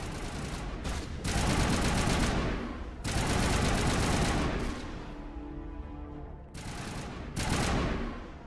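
Bursts of rapid automatic gunfire in the Mass Effect video game, loud fusillades broken by brief pauses, with a quieter stretch where ringing tones and softer shots trail off before heavy firing resumes.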